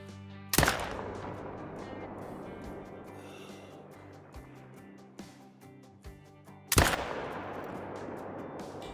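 Two sharp rifle shots ring out in a hunting video game, each a loud crack with a long echoing tail, spaced several seconds apart over a quiet outdoor backdrop with faint rustling.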